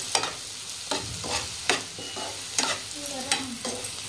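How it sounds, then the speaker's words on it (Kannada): A spoon scrapes and stirs macaroni pasta with chili powder in a hot pan, giving repeated scraping strokes over a soft sizzle, close and alone. "ಇವಾಗ 1 ಟೇಬಲ್ ಸ್ಪೂನ್ ಅಷ್ಟು ಅಚ್ಚಕಾರದ ಪುಡಿ ಹಾಕೊಂಡು ಇವಾಗ ಮತ್ತೆ ಮಿಕ್ಸ್ ಮಾಡ್ಕೊಂಡ್ರಿ"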